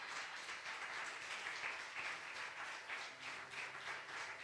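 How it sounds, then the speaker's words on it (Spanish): Church congregation applauding during a sermon, a continuous wash of many hands clapping, even and sustained, heard at a distance and fairly faint. "Dale un fuerte aplauso al Señor"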